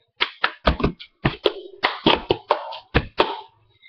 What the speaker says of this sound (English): So what you're going to do is clap your hands once